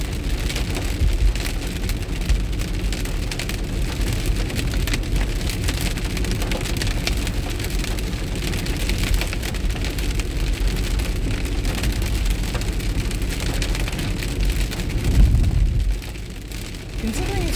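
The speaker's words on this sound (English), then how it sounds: "Considering it's raining out" Heavy rain pelts the outside of a car driving through a storm, a dense, constant hiss and patter over low road rumble, growing briefly louder near the end.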